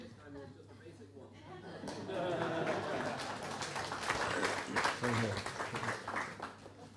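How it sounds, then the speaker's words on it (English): A small audience applauds at a property taxation talk, scattered clapping building up partway through, mixed with talk and chuckles in the room. "I just want to give Joe a round of applause"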